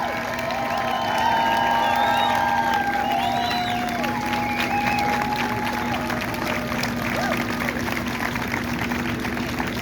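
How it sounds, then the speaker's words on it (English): A Boston crowd at an outdoor freedom rally applauds and cheers in a steady, dense wash of clapping with scattered whoops, loud and continuous, while a low engine hum runs underneath. "Let's give one more Boston round of applause for Mr. King"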